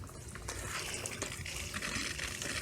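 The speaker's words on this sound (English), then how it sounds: "And we can hear that the water is on." Water running from a spigot into connected TorpedoPot pots, a faint steady gushing trickle with soft splashes, continuous and fairly distant.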